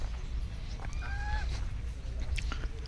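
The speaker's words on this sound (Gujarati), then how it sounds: "વ્હાઈટ બતક." A white duck at a village farmhouse pond gives a brief nasal call over steady low outdoor rumble, moderately close and heard alone.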